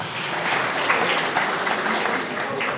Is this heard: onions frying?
no